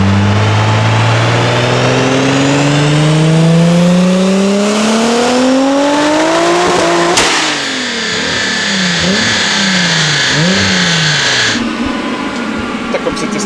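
A Renault R28 Turbo revs hard and accelerates like a burnout, its engine note climbing loud and close, then wavering through repeated surging revs under a harsh roar.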